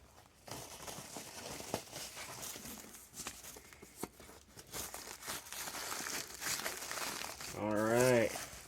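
Cardboard and tape packaging crinkles and tears continuously while an Xbox Series X console is unboxed, a close rustling texture that keeps going throughout.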